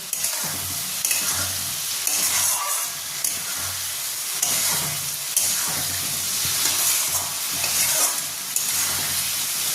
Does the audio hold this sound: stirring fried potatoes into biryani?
yes